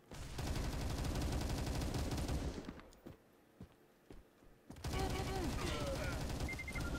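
Machine gun fire in the shooter game Battle Carnival: a loud, sustained burst of rapid shots, a short lull with a few isolated shots, then another long burst layered with game effects.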